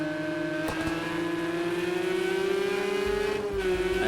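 A race car engine in an Xbox racing game drones at steady high revs and climbs gradually, then dips and recovers as the car brakes into a right-hand corner, with a brief sharp transient and faint tire noise.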